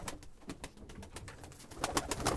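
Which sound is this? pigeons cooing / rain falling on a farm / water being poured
pigeons cooing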